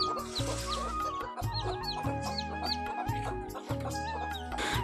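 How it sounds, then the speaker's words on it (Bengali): Two hens cluck steadily while their eight newly hatched chicks each peep in quick, high chirps over a low background hum, close by and continuous. "দুটা মুরগি একসাথে আটটা করে বাচ্চা দিয়েছে"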